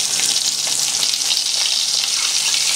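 Meats for a mixed grill frying in a pan in their own juices, a loud, dense, continuous sizzle and spitting crackle up close, steady throughout with no voices.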